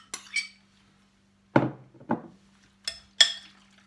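Spoon scraping and knocking through chopped vegetables and tomato for a vegetarian chilli in a bowl, several separate short clinks and scrapes with quiet gaps between them.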